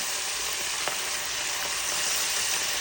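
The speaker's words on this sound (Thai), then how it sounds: "แล้วก็จะเอาลงไปทอดแล้วนะครับ นี่ โอ้โห น้ำมันเดือดดเลยนะครับทุกคน" Coke-marinated chicken pieces frying in boiling oil, giving a steady, dense sizzle and crackle with a few sharper pops, heard close up and alone.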